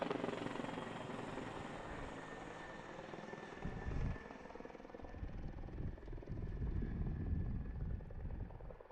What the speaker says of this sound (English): Well, that's a lot closer than I ever expected a helicopter to be around here.